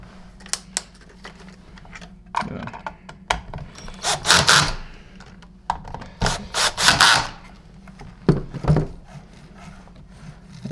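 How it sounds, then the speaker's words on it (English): Cordless drill tightening the motor screws on a SEBO ET-C vacuum power nozzle during a repair, giving several short whirring bursts of a few seconds each with quiet handling and rubbing between them. "I tighten them with the drill"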